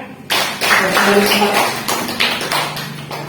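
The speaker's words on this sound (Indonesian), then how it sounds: "Beri tepuk tangan." Schoolchildren in a classroom clap their hands together in quick, uneven bursts close by, with young voices calling out over the clapping.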